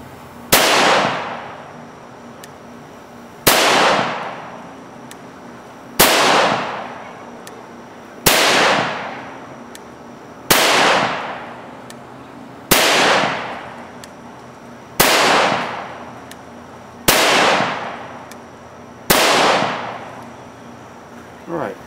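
CCI Stinger .22 rounds fired one at a time from an M&P 22 pistol, ten sharp, loud reports at a steady pace of roughly two seconds, each with a short fading echo.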